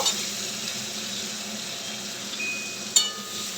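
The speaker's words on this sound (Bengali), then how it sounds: "পেঁয়াজটা লাল লাল করে ভেজে নিয়ে" Onions frying in a pan until reddish brown, a faint, even sizzle held steady throughout, with one short clatter near the end.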